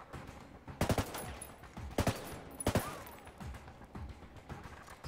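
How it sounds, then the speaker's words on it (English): Gunfire in the shooter Ghost Recon Wildlands: several bursts of rapid, loud shots crackle close by over a low background rumble, with short pauses between the volleys. "That was some good shooting."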